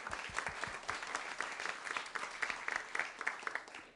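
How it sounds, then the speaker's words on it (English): A Sunday service congregation at Seattle Unity gives a round of applause, with many hands clapping in a dense, fairly soft patter from across the room, steady throughout. "Let's give them a round of applause"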